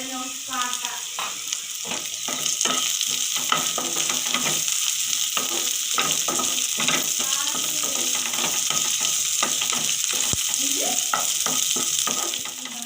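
Okra masala frying in a pan as curry leaves and salt go in, with continuous loud sizzling and repeated stirring scrapes over it, close up.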